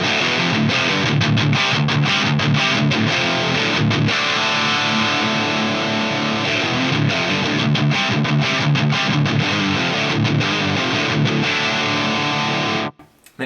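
A Mesa Stiletto Deuce amp set to tight gain and bold in 50 watt mode drives a dense, heavily distorted riff with chugging palm-muted hits. It plays loud and continuous for about thirteen seconds, then stops sharply.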